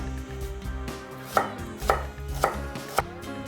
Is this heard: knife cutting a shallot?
yes